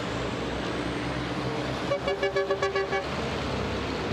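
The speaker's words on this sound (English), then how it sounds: "You can hear now a lot of the drivers honking the horns as they come around as well." Racing trucks at the Le Mans round of the FIA European Truck Racing Championship honk a rapid string of horn toots as they come around, loud over steady engine and track noise.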